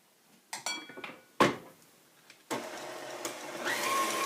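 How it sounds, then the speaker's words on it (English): Cupcake batter with vanilla extract is mixed in a bowl, giving scattered clinks and scrapes of utensil against the bowl, then a denser, steady whirring stir in the last seconds, all fairly quiet and without talk. "Go ahead and mix that in."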